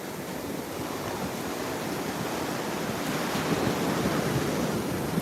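Ocean waves wash steadily onto Juno Beach, a broad continuous roar of surf with some wind buffeting the microphone, growing a bit louder.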